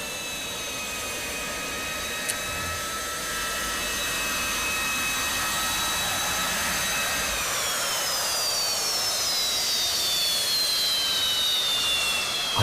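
A military jet built between 1971 and 1996 roars steadily, with a rising whine that shifts in pitch as it passes or spools, loud and continuous over a broad rushing noise.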